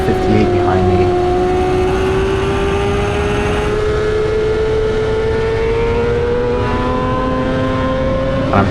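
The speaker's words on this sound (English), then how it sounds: "I'm pretty sure at this point I can hear his bike" A racing motorcycle engine on a track during a middleweight amateur race, a loud continuous drone with slowly rising pitch as the bike accelerates, filling the whole stretch, with a voice briefly present.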